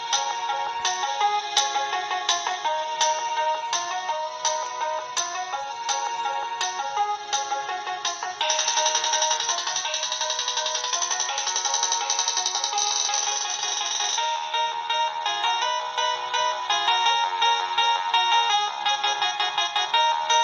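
A Nokia 7260 mobile phone plays its built-in polyphonic ringtone, a bright looping electronic melody with steady beats that switches partway to another tune, loud and alone.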